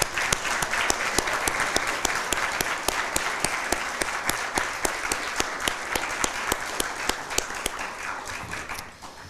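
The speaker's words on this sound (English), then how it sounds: "let us give you a round of applause as our appreciation" Audience at a Richland fire department badging ceremony applauds family members with sustained, dense clapping that stays loud and steady before cutting off at the end.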